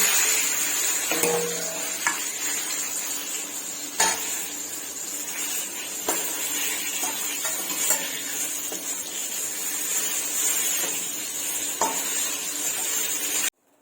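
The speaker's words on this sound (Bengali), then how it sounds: "বেগুনের দু পিঠি খুব ভালোভাবে ভাজা হয়ে গেছে।" Eggplant slices fry in oil in a pan, a moderate steady sizzle under repeated scraping and clinks of a spatula against the pan as pieces are turned and lifted out.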